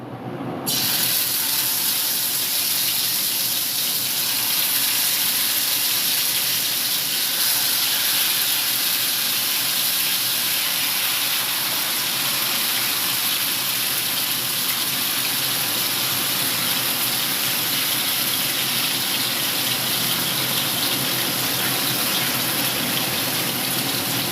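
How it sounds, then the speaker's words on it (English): Steady, loud hissing sizzle of marinated chicken frying in a hot pan, continuous and unbroken throughout. "You're going to hear the sizzle"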